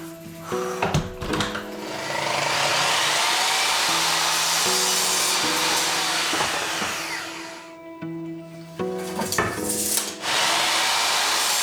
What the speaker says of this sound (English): There's like a hairdryer blowing in there.